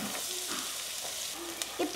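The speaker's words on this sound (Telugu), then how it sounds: "ఇప్పుడు ఆనియన్స్ వేసుకుంటాం." Onions fry in a pan for a chicken curry, sizzling with a steady close hiss and crackle, with a few soft stirring knocks near the end.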